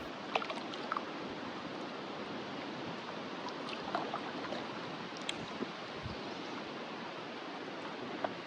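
Paddling a boat along a river in the open, with a steady wash of moving water and breeze throughout and a few faint splashes and knocks scattered across it; no voices.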